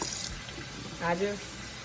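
Tap water runs into a sink while meat for a pot roast is rinsed, a brief close splashing stream that swells for a moment near the end.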